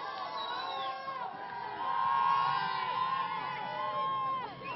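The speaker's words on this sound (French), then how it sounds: "La foule se précipite pour accueillir les stars internationales de l'équipe bourguignonne" A crowd of supporters at an Amnéville versus AJ Auxerre football match surges to greet the Auxerre players, a sustained roar of shouting and cheering voices that swells midway and fades slightly toward the end.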